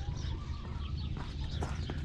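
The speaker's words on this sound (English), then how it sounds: "There's chickens in there." Chickens in a chicken house at a pioneer frontier site make soft clucks and calls against a dull low rumble, faint and somewhat distant, with no talking.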